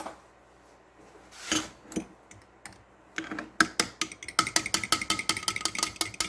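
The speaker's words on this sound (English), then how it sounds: "This milk has some cream on top, so I think I'll give it a stir." A utensil stirs goat's milk with cream on top in a container while making Amish friendship bread starter, first with scattered clinks, then a quick run of rapid rhythmic taps against the sides, close up.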